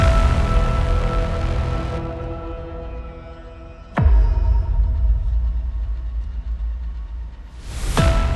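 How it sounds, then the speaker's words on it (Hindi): Water-driven grain mill grinding inside a temple in Himachal Pradesh, a steady low rumble that fades and then swells back abruptly, with sharp clicks near the middle and end, no voices. "आपको ये एहसास होता है कि अंदर बाकायदा एक चक्की चल रही है"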